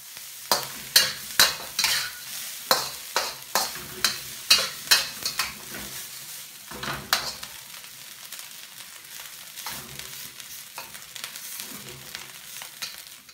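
Rice stir-fried in a hot wok, a spatula scraping and chopping to break up clumps: a quick run of sharp rhythmic strikes over a steady sizzle, easing into slower scrapes and stirring.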